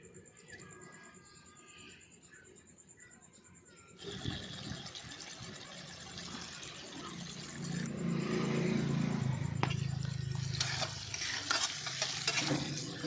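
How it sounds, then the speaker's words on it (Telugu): Okra (bhendi) coated in besan masala frying in a pan, starting quiet with faint tonal background hum, then a fuller close sizzle and stirring that swells after a few seconds and stays steady. "అది బాగానే ఫ్రై చేస్తున్నాము. మేము బెండకాయలు వేసినాం కదా, అది ఫ్రై చేస్తున్నాము."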